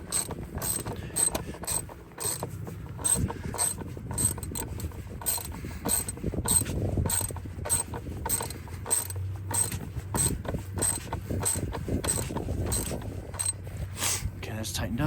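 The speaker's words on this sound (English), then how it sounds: "we're gonna tighten up that fitting right there" A 10 mm ratchet tightens a fuel filter fitting on a 1998 Toyota RAV4, giving a continuous run of rapid, close clicking strokes with brief pauses, over low background rumble and occasional faint voice sounds.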